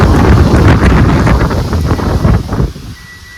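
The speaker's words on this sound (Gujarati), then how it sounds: "પવન બહુ છે અવાજ આવ્યો કે નહીં" Strong outdoor wind buffeting the microphone, a loud roaring rumble with gusty pulses that abruptly drops away near the end, leaving a quieter background.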